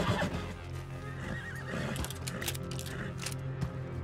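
Horse neighs and whinnies in Red Dead Redemption 2 in the Western open world, with hoof clip-clop mixed in. The calls are loud and close, repeating over a busy, continuous game soundscape, and no one speaks.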